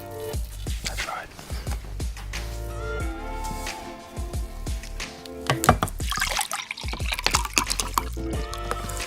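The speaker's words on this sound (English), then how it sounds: "now I'm going to pour the very expensive Finnish cola into the very expensive glass" Finnish cola pours from a bottle into a glass, a trickling, dripping stream with fizzing and splashes that grows busier as the glass fills, set against a cluttered background of other close sounds.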